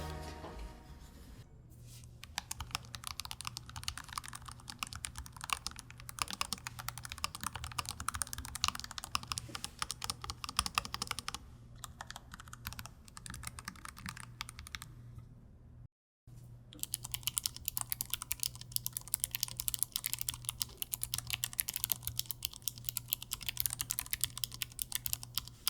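Continuous brisk typing on an ROG Falchion RX Low Profile keyboard with two layers of silicone foam in its base, dense close-up key clicks and taps running throughout with only one brief pause, no voices.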